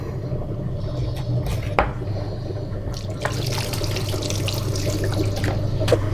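Water runs steadily while clay is thrown on a pottery wheel, a continuous wet rushing and splashing with occasional sharper drips and sloshes throughout.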